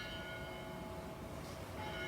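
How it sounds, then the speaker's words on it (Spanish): Church bells ring far off, faint and steady, a soft distant peal under low background hiss with no speech. "vamos a dejar que nos acompañen las campanas, que está bonito"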